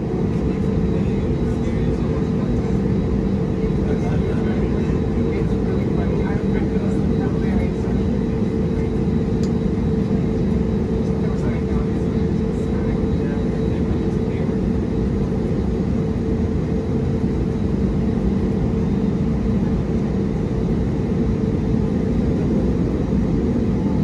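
Frontier Airlines Airbus A320neo taking off from Tampa, a loud, steady jet engine roar with broad rumbling noise that holds constant throughout, near and continuous with no talk.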